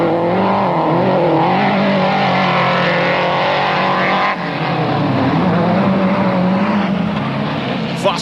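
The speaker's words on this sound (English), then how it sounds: "Tony McCall is back on four wheels and he's driving fast" Offroad racing cars run flat out in a race heat at a 1991 Te Atatu, New Zealand meeting, with a steady loud engine roar and shifting pitch as the cars accelerate and pass.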